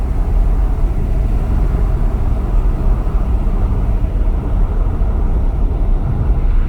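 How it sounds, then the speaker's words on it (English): A VW Golf R Mk7.5 with a Unitronic Stage 1+ tune under throttle, heard as a loud, constant low engine drone with road roar, steady and close, with no talking. "When you give it gas, it does transfer the power to the rear wheels"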